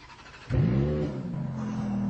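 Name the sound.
Ferrari F430 4.3 V8 engine idling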